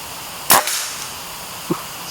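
One loud, close crack from an FX Airguns OD 38 PCP air rifle with a brief tail, followed about a second later by a faint thud of the pellet striking the target.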